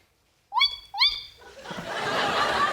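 A person imitates a tawny owl call with two quick rising hooting whistles, followed by audience laughter swelling behind it.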